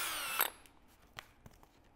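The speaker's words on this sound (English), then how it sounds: "you're just kind of drilling the heads off of the rivets" A power drill boring the heads off rivets to free the latches of a hatch on an 80 Series vehicle: a brief loud whine cuts off sharply, followed by a few faint clicks and taps in near quiet.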